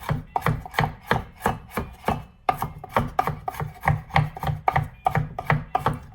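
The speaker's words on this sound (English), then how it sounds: "Again, hand over and chop it." A chef knife chops food on a cutting board in steady, rhythmic strikes, about three per second, each a crisp close knock repeating without pause and with no voices.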